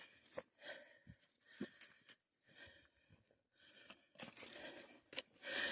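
A hiker on the Appalachian Trail breathes heavily in uneven bursts of panting and wheezing exhales, close to the microphone, separated by short quiet gaps.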